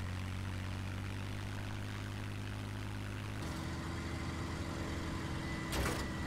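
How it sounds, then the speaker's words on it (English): Propeller-driven airplane engine droning steadily in a combat video game, a continuous loud hum that shifts pitch midway as the plane passes, with a brief sharp burst near the end. "I don't know where that plane went."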